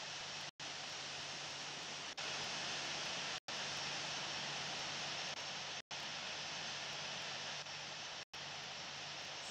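A simulated airliner taking off in the flight game Infinite Flight, an Etihad Airbus A380, a loud steady broadband engine roar, broken by a few brief dropouts.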